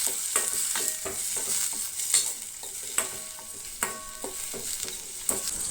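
Chopped onions sizzle in a hot oiled pan for a Goan bhaji while a spoon stirs them, giving a steady frying hiss broken by repeated scraping strokes, close up with no talk.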